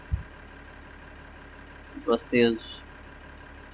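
A tractor engine idles in the farming video game Farming Simulator 2013 as a quiet, steady low hum throughout, with a few brief spoken words over it.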